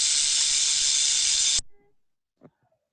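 Rattlesnake rattling gives a loud, steady buzzing hiss that cuts off abruptly after about a second and a half, followed by near silence and a faint brief sound.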